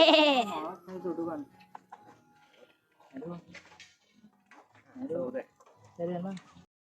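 Goats bleat in short, wavering cries, a loud one up close followed by several scattered calls, with voices mixed in between.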